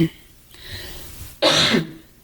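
Close, dry throat clearing and a short cough from a person at a dining room table during a podcast recording, two brief bursts with a quiet gap between, the second louder and harsher.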